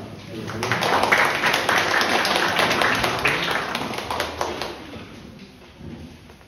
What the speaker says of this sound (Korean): 박수로 감사드립니다